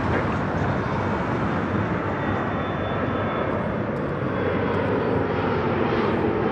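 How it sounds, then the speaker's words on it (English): A Boeing 777 airliner at Toronto Pearson airport makes a loud, steady roar of jet engines that holds without a break, heard alone and close with no talk. "I know you want the A350, but this is a 777."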